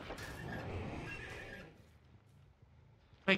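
A horse neighs loudly in the Dead by Daylight video game, a rising whinny with faint hoof clatter lasting about a second and a half, then low game ambience and a sharp closing sound.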